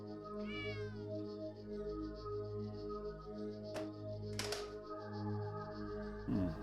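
In the video game Bad Mojo, a cat gives a short rising meow near the start, set over a steady low droning music bed, with a few brief clicks and rustles that follow.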